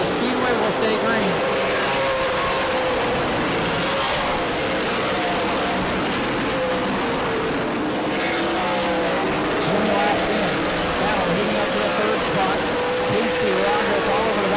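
Super Late Model race cars roar around New Smyrna Speedway in a dense, continuous wash of engine noise with passing whines, while an announcer's voice calls the action over the top.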